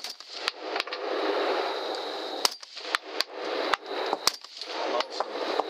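Rapid gunshots ring out during a wild hog hunt in Georgia, a string of sharp cracks spread over several seconds against a loud, rushing background noise.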